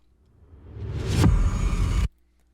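An unfiltered impact effect from Kashmir Volume Pack 2's impacts and sweeps, swelling from a low rumble into a loud, dense whooshing surge with a bright sweep, then cutting off abruptly into near silence.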